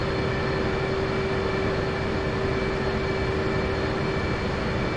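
A jet aircraft in the DCS flight simulator sits fuelled on a cross runway, its engine holding a steady, dense roar with a constant whine and no break in volume.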